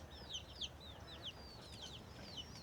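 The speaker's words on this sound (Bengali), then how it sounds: "দেখুন কত বড় বড় মোরগ" Large roosters and hens cluck and chirp repeatedly at a rural Bangladeshi homestead beside small coops, with fairly close, overlapping calls over a constant outdoor background hiss and no talk.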